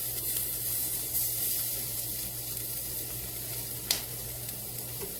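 Onions sizzle in a frying pan, a steady hissing fry with a low hum beneath and one brief sharp clack partway through; no voices.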